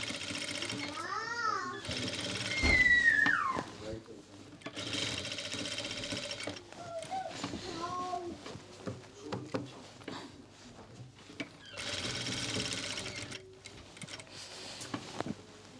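A sewing machine stitches the rounded neckline of a pheran in bursts with the presser foot lifted, running in several stretches with pauses between, while someone talks and a voice is heard nearby.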